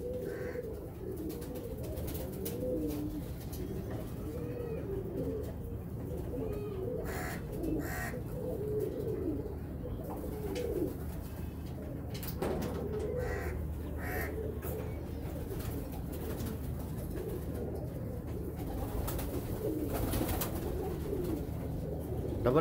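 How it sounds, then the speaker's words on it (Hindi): A double-eyelid breeding pigeon with a pink beak coos in repeated low, rolling phrases close by, over a steady background hum with faint clicks. "ये पुरानी हवा में है कबूतर, ब्रीड करता हुआ है।"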